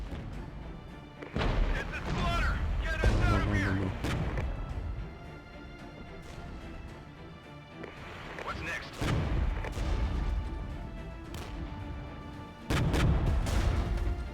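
Artillery and gunfire crash through a video game battle between Canadian and Dutch forces and Czechoslovaks, loud repeated booms and bursts in clusters, with voices talking over the fighting.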